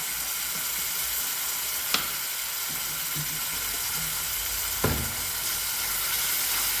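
Watermelon and mango pickle stirred in a hot pan, with a continuous sizzle of frying and two distinct scraping knocks of the spoon against the pan, no talking over it.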